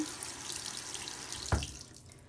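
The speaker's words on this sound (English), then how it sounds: "And then you want to continually run it under water." Tap water runs steadily into a sink over an oil paint brush, a soft continuous splashing with a brief louder knock partway through and no talking.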